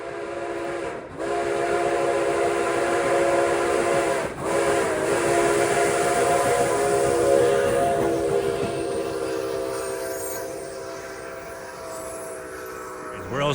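The Nickel Plate 765 steam train rumbles past close by at full speed, loud and sustained, with steady harmonic machinery tones and a brief whistle-like burst, the roar holding for most of the clip.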